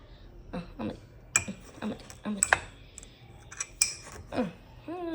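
A metal spoon clinking and scraping against a dish while salt is stirred into food, a few scattered sharp taps close by, with a voice talking between them.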